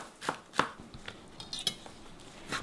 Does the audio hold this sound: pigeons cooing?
no